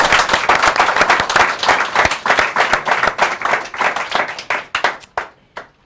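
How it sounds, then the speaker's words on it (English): A conference audience gives a hearty round of applause, dense claps at first that thin out into a few scattered last claps before stopping. "Can we please have a round of applause for Peter?"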